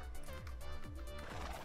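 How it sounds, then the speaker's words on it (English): Minecraft horse in a video game whinnying and neighing with steady clip-clop hoofbeats, loud and close, repeating through the short stretch with no talk. "let's go for a ride on our horse"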